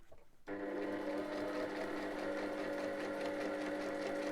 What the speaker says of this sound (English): just sew in this straight line